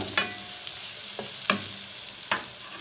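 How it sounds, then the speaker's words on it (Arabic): Garlic frying for shrimp sizzles steadily in a pan as sauce goes in, with three sharp stirring scrapes spaced about a second apart over the close, continuous hiss. "ننزل بالصلصه"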